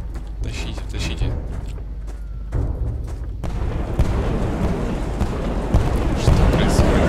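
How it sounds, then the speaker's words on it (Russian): Explosions and battle chaos in the physics game Totally Accurate Battle Simulator: loud rumbling blasts and crackling debris bursts, sparse at first and then building into a dense, continuous roar with sharp hits near the end. "Что-то взрывается."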